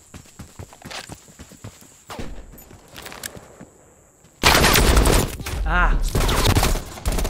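Automatic weapon fire in the multiplayer shooter Call of Duty Black Ops Cold War bursts out loud in rapid volleys after quieter footsteps and scattered shots, with a player briefly exclaiming.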